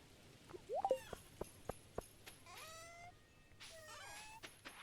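Cat meowing in the farming video game Stardew Valley, a few short, soft meows and chirps scattered among faint clicks and light game sounds.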